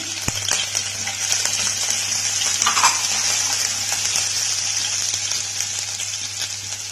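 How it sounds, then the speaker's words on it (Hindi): Chopped garlic and sliced green chili sizzling in hot oil over a high flame, a loud continuous frying hiss with occasional clinks of a utensil, close and steady with no talking. "ऑयल गरम हो चुका है। अब हम इसमें चॉप्ड गार्लिक डालेंगे, कटी हुई ग्रीन चिली डालेंगे"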